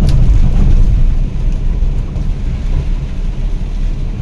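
An afternoon rain shower with thunder in Buntharik district, Thailand, on 3 May 2024 makes a loud, steady wash of rain, with a deep rumble at the start and wind buffeting the microphone.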